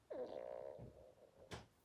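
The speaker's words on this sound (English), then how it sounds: "fart long" A single drawn-out fart, a low buzzing tone that wavers and trails off for over a second, followed by a couple of brief thumps.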